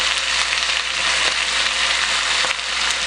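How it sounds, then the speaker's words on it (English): Chicken searing in a hot pan for keto sesame chicken, a loud, continuous hissing sizzle close up with slight crackling pulses throughout. "you got this nice searing sound"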